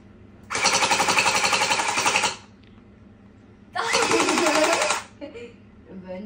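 Nerf Pro Gelfire Mythic blaster firing gel balls in two sustained full-auto bursts, each about two seconds long, loud and close, with a brief pause between them.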